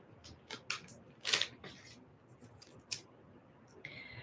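Scissors snip the corner off a label for an essence bottle, with a few quiet, close, crisp cuts separated by brief pauses and a soft rustle at the end.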